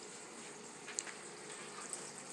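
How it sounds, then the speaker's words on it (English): A pot of celery, onions, garlic and sage for cornbread dressing sizzles steadily with a soft, constant hiss and occasional faint pops and crackles, heard close up with no one talking. "Take a look at this sizzling pot."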